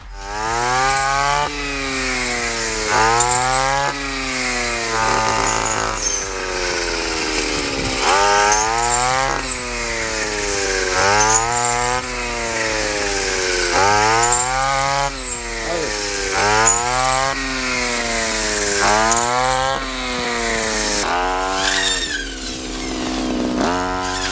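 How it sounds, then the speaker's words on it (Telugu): A STIHL FS 3001 petrol brush cutter fitted with a blade cuts through maize stalks in a field. The engine revs up and down in repeated loud surges, with no talking. "ఇప్పుడు మనం ఎనభై వాళ్ళ బ్లేడ్ బిగించాం కదా దీంతో మనం మొక్కజొన్న హార్వెస్ట్ ఏ విధంగా చేయొచ్చో చూద్దాం"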